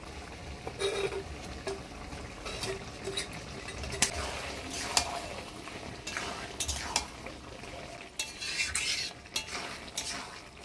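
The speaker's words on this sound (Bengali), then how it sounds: "এবার ভাজে রাখা চিংড়ি মাছগুলো দিয়ে দিব।" Fried prawns are stirred into a ridge gourd curry in a pan, with scraping and clinking of a spoon against metal over a low simmering sizzle, close and fairly quiet, with a brief voice in the background.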